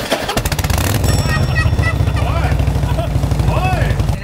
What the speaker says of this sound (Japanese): エンジン音を聞きたいですね。